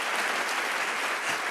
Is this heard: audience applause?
yes